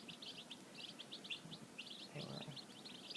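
Black copper marans chickens give bursts of high chirps, rapid and uneven, at moderate distance over a soft background hiss. A brief low rustle comes near the end.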